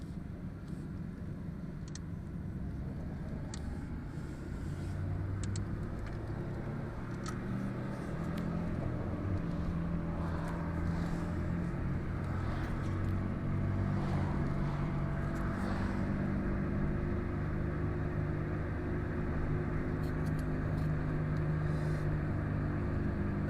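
A car driving along a main road in Hungary, with a steady low engine and road rumble and wind noise heard from inside the cabin throughout, and no talking.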